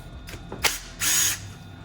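Short bursts from a power tool removing screws from a motorcycle's Brembo clutch slave cylinder, several brief whirs followed by one longer, louder run, close by with no talking.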